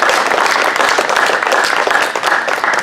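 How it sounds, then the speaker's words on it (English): A farming conference audience gives a panel a dense, loud round of applause, many hands clapping steadily in a hall for the full stretch. "Let's give our panel a big round of applause here this afternoon"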